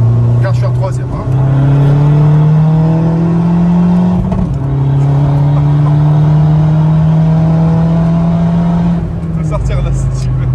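Interior sound of a heavily tuned Volkswagen Golf 4 TDI with 417 hp, pulling hard on a highway: a loud, steady diesel engine drone climbing in pitch through the gear, with a brief shift break, continuous and close.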